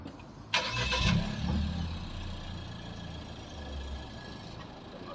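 A 2022 Suzuki Swift Sport hot hatch cranks briefly, catches and starts, then settles into a steady, fairly close idle hum.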